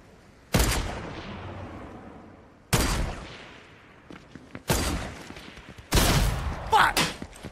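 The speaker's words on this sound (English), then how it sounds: "I got a damn sniper rifle again." Sniper rifle gunfire in a video game: four loud, sharp single shots spaced a second or two apart. Each crack rings out into a decaying echo, and a faint voice is audible between the shots.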